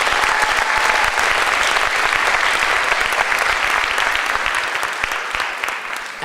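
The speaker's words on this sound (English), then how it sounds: "Let's have another round of applause for all our Trail Ambassador candidates" Sustained audience applause at a Trail Ambassador pageant, dense and steady clapping from a sizeable crowd for the candidates, fading slightly toward the end.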